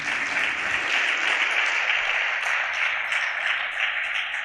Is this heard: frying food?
no